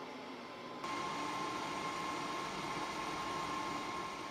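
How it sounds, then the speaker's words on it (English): An electric blower fan in an off-grid cabin switches on abruptly, its quiet background jumping to a steady, close whooshing rush with a faint constant whine that holds to the end. "Then we take the blower fan, the plug, and we stick it in. Fan comes on"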